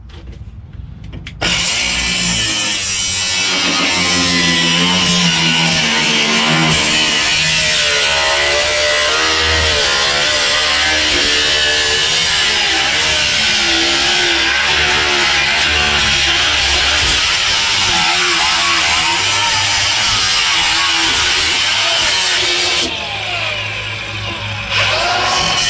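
A power tool cuts through the rusty floor of a 1961 Pontiac Laurentian, a loud continuous grinding whine that runs steadily for over twenty seconds, wavering in pitch as it bites into the metal, then cuts out near the end.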